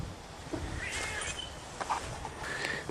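A kitty in a farm workshop where a go-kart engine is being set up lets out a couple of faint, thin meows over a steady hiss of background noise.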